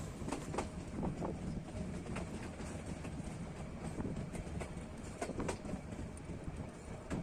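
A meter gauge train pulling into Babaganj railway station, with a steady rumble and rhythmic clatter of the wagons throughout and faint birds in the background.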